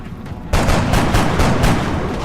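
Heavy, dense gunfire in the video game XCOM: Enemy Within, shooting through a wall; it erupts suddenly after a quieter start into a loud, sustained volley with rumbling impacts.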